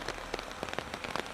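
Rain falling outdoors, a quiet, continuous patter of drops hitting a surface with soft, scattered taps and no voices.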